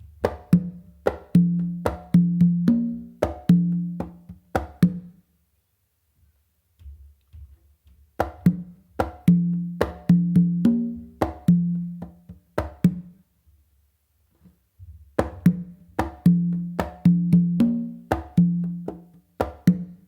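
Congas playing a guaguanco exercise: three separate phrases of crisp, pitched hand strikes in a repeating syncopated rhythm, each phrase followed by a short pause, close and clear with no voices.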